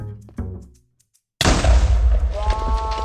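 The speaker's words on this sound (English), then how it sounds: "Trying to destroy an end crystal with your bare hands and no armor" A loud end crystal explosion in Minecraft bursts in sharply after a brief silence, then rumbles on with a dense, roaring boom and scattered crackle to the end; short game sounds come before the blast.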